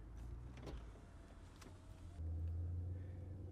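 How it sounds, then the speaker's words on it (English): Electric power window rolling up inside a 2013 Chevrolet Camaro SS, a low steady motor whine that strengthens toward the end over quiet cabin hum. "Let me roll up the window here"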